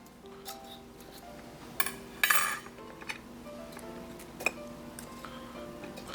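Metal pan clatter and clinks as a tray of oven-roasted chicken tikka comes out of the oven, a few sharp knocks and rattles over a quiet kitchen background.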